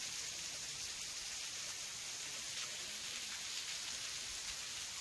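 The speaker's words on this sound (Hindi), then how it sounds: "अभी तो हल्का ऐसा पानी गिर रहा है भाई" Water falls lightly at Gandahati waterfall in the dry season, heard as a steady, soft, hissing wash of spray that holds unchanged throughout, with no voices.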